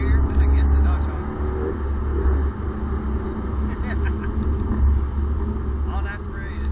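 A Subaru BRZ Limited with a naturally aspirated engine gives a steady low rumble while moving through second and third gear, with a voice talking over the engine throughout.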